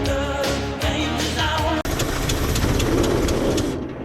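Engine of a 1978 Dodge Ram W100 truck runs right after a backfire, a loud rough idle with uneven knocking pulses that smooths into a steadier rumble, with brief voices nearby.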